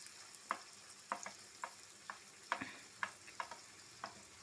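Carrots, green chillies and beans cook in oil in a pan, a faint steady sizzle with a spoon clicking against the pan about every half second.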